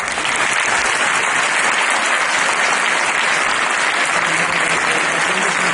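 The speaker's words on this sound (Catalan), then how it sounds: "Un aplaudiment per ella." Steady, loud applause from a packed audience at the 2013 Gala de l'Esport sports awards ceremony, dense continuous clapping filling the hall without a break.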